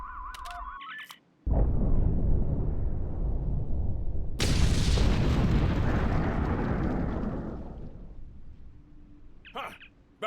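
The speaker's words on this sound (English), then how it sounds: "Fire in the hole!" A big video game explosion bursts out abruptly after a short electronic beep, followed by a second louder blast whose roar and rumble hang on and slowly fade over several seconds, with more electronic chirps near the end.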